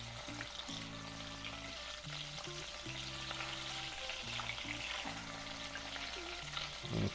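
Pork belly fries in a pan with a steady, crackling sizzle and stirring, heard beneath soft background music.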